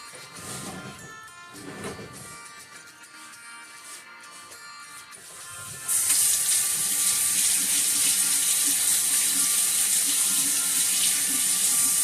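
A kitchen tap runs to rinse a spoon while making pumpkin cookies. After some quieter clatter, a loud, steady gush of water starts and keeps flowing.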